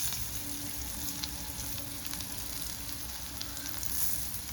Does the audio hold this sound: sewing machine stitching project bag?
no